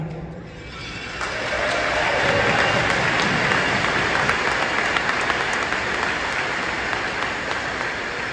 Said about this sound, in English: Big round of applause for that ginormous contribution to such an amazing event happening here in our community.